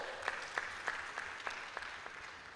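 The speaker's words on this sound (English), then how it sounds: "Round of applause for Paul." Audience applause at a Science Week event for a speaker, with separate claps standing out at a steady beat from a faint, thin wash of clapping. The applause stays moderately quiet and heard from some distance.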